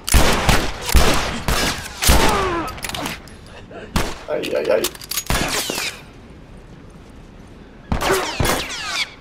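Sharp bursts of gunfire crack in quick clusters, some single shots and some rapid volleys, with a voice exclaiming between them, in the video game The Last of Us Remastered.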